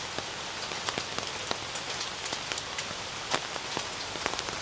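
Steady rain falling outdoors on a walk through a Buddhist temple garden, a dense even hiss with scattered sharp droplet ticks on surfaces, close and moderately loud, no voices.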